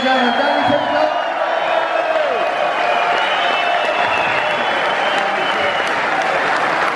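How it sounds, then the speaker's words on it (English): A large theatre crowd at a Quadrophenia Q&A in the Hammersmith Apollo applauds Danny Peacock, loud sustained clapping with whoops and cheers rising over it. "Another round of applause for Danny Peacock, ladies and gentlemen."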